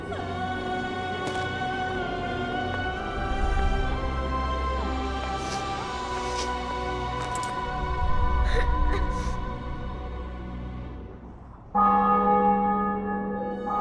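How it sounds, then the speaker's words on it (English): Church bells in The Witcher 2 ring out in a sustained, resonant peal, heavy tolls overlapping and layered with a low rumble, briefly fading before a fresh, clear strike near the end. "Bells,"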